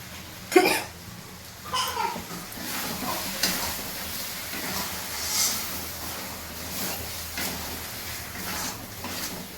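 Bombay duck fish frying in a pan: a soft continuous sizzle with intermittent scraping stirs, close but quiet, and no talking.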